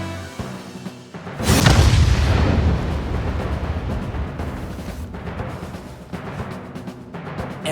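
In the game AI: nirvanA Initiative, a body rigged with explosives and a burning fuse blows up in one sudden loud boom after a quiet lead-in, followed by a long rumbling roar that lingers to the end.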